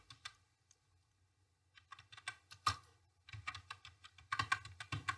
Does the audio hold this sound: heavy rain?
no